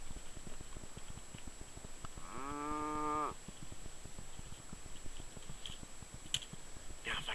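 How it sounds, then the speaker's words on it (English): A person gives a long, tonal cow call to bring cattle in near a lake shore, with a low rumble of wind and outdoor noise around it and no clear moo standing out. "I called the cows in with my cow call."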